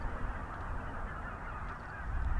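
A dense mass of geese honks continuously in the distance, a busy, overlapping chatter with no single call standing out.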